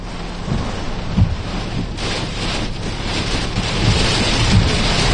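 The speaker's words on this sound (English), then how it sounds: "It's a little bit windy" Strong gusting wind from Hurricane Debby at landfall buffets the microphone with heavy rumbling roars and rushing bursts, loud and continuous with no speech.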